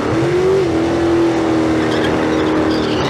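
A drag race car at the Street Car Super Nationals in Las Vegas launches into a slow, progressing wheel stand, its engine roaring loud and close in one sustained howl, pitch briefly rising then holding steady under full throttle.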